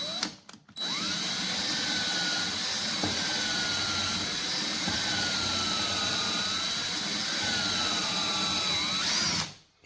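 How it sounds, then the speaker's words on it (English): Portable drill press boring a hole through high-density polyethylene (HDPE), a loud steady whine with a sustained high tone that shifts slightly in pitch as the bit cuts, starting and stopping abruptly. "So I'm going to drill a hole"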